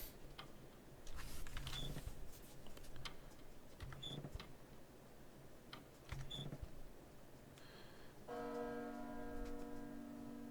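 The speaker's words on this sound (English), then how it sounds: "The bell." A bell rings out in the video game Small Saga, three separate clangs about two seconds apart, each ringing over a faint ticking background, before a sustained tonal chime swells near the end.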